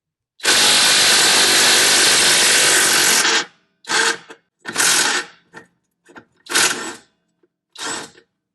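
Revvstark brushless cordless impact wrench on a 17 mm bolt, a long loud burst of rapid hammering that runs about three seconds, then several short bursts and blips separated by silence.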